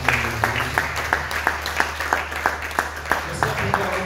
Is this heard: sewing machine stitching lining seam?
no